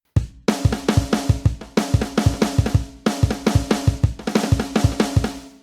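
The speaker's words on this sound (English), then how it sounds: "resonant snare drum, which sounds something like this" A resonant snare drum struck in quick repeated patterns, each hit ringing with a bright, shimmering tail, loud and close with no voices.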